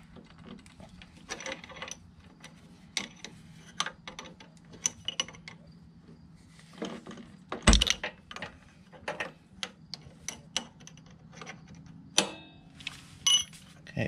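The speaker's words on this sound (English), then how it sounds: "You're going to hold this with a 1/2-inch wrench. Your jam nut's going to be 9/16. And you're going to just loosen it up." A wrench working loose a 9/16-inch clutch adjuster jam nut held with a 1/2-inch wrench during a primary oil change and clutch adjustment, with scattered close metallic clicks and taps and one sharper clank partway through.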